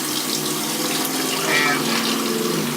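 Water runs steadily from a tap at close range for shaving, a loud continuous splashing rush that fills the whole moment without a break.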